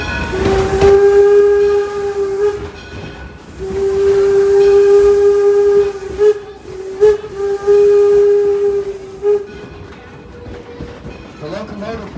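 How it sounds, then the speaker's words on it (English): An 1897 Baldwin steam locomotive, built in Philadelphia at the Baldwin Iron Works, sounds a long steady steam whistle in repeated blasts over rumbling train noise and hiss, with a voice talking partway through. "The locomotive pulling us this morning is our 1897 Baldwin"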